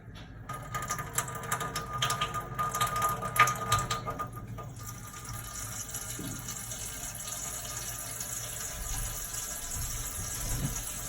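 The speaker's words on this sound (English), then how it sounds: "You hear the water spraying above you" Water rushes and sprays through household plumbing after the supply is switched back on during a leak repair, a steady hiss that swells with clattering bursts early on and then settles into a continuous flow.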